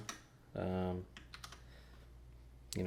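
Clicky key presses on a Ducky Shine mechanical keyboard with Cherry Brown switches tap out in a few short bursts, close and fairly quiet, with a louder clack of several keys near the start and end.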